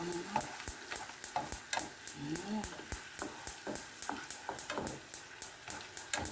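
Sauce added to a butter-fried fish fillet in a hot pan, sizzling steadily beneath regular close clinks and scrapes of stirring, with a voice talking briefly over it.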